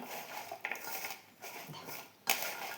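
Sweet potato snack ingredients mixed in a large bowl, with soft scraping and a few light clinks of a utensil against the bowl, quiet and close, ending on a sharper knock.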